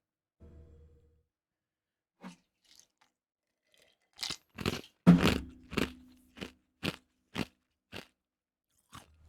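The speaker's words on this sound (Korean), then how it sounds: "한겨울에 얼음 씹는 것만큼 좋은 게 없어." A character in Hogwarts Legacy chews ice, a series of about nine sharp, crisp crunches close up, spaced roughly half a second to a second apart, after a few faint earlier sounds.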